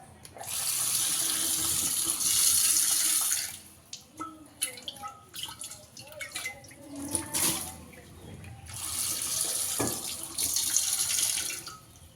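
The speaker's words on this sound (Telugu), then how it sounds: "ఈ కొత్త కుండనైతే ముందుగా వాటర్తో ఒక 2-3 సార్లు అయితే వాష్ చేద్దాము." Running tap water pours over a new clay pot being rinsed, in two long steady gushes separated by a quieter spell of splashing, clinking and dripping, close by.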